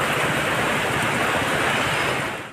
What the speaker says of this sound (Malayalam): മഴവെള്ളം ഒഴുകിയെത്തുന്നത് റോഡിലൂടെ തന്നെ